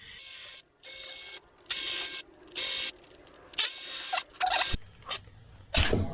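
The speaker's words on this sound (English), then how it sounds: "Now I'm gonna open up the necessary bolts." Bolts are undone on the 4.4-litre TDV8 engine of a Range Rover L405, a ratchet or power tool whirring in repeated short bursts separated by brief pauses, close and without talk.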